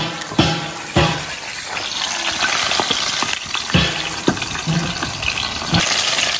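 Peppers fry in a pan with a loud, continuous hiss and sizzle, broken by several sharp crackles and thumps as they are stirred and turned.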